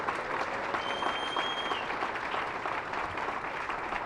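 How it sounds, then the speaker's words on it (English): Audience applause at a gift announcement ceremony for a basketball performance facility, a steady wash of clapping that fills the whole moment at moderate, slightly distant level without letting up. "So Ramon, a huge round of applause again for everyone."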